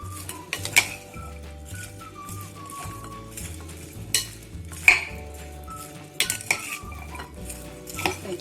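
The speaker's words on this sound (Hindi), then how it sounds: "सारी चीज़ों को पहले मिक्स कर लेना है" A spoon stirs and tosses papri chana chaat ingredients in a bowl, with repeated scraping and clinking against the dish at a fairly quiet level. Some lighter background clatter comes between the knocks.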